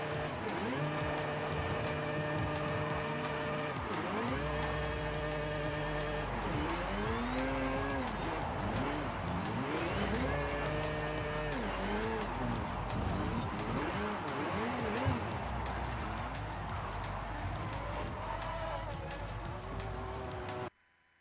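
Ferrari engine note in a drifting racing video game, a continuous loud revving tone rising and falling in sweeping pitch bends as the car slides, with occasional tire squeal layered over the steady roar.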